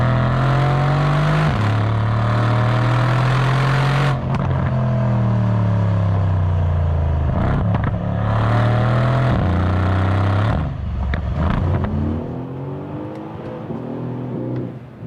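Mercedes C63S AMG with a 580 bhp engine, revving loudly and accelerating hard through several rising gear pulls, each shift dipping the pitch before it climbs again, close and dominant throughout.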